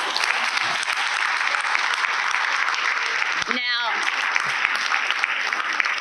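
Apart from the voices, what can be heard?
audience applause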